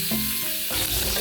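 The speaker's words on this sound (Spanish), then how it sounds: "Y aquí vamos a sofreír ahora el jamón." Ham sizzles as it is sautéed in a paella pan for a Cuban-style paella, a dense, steady frying hiss that fills the short stretch without any talk.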